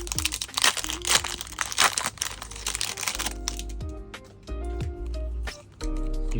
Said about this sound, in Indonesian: Yuk kita buka pack pertama ya.